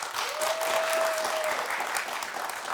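Steady applause from a talk show studio audience clapping to vote, a dense, sustained round of many hands with a faint whistle-like tone briefly riding over it early on.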